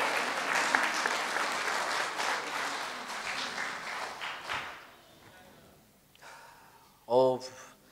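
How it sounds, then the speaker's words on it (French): A church congregation claps and cheers loudly for about five seconds, then the applause fades out into quieter room noise with a few brief voices and a short vocal burst near the end. "vous pouvez applaudir"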